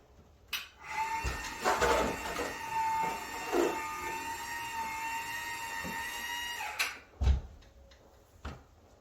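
An electric stair-climbing hand truck works its way up a flight of stairs, with a motor whine holding steady under the thumps and knocks of each step, then a louder clunk near the end.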